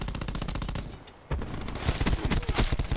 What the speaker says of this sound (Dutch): Ik heb ze wel alle drie, maar ja, allemaal op het lichaam geschoten.